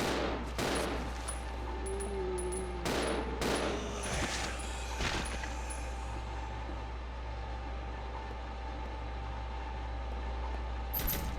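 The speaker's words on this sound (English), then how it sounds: "Me wasting handgun rounds needlessly." Handgun shots fired in the Resident Evil 0 HD Remaster video game, several sharp close reports in the first five seconds, then a quieter stretch of game ambience and a low hum.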